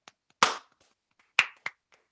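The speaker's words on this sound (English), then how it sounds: "Applaud it, Kevin. Applaud it." A few sharp hand claps, loud and close, spaced irregularly with quiet gaps between them, heard alone with no talk.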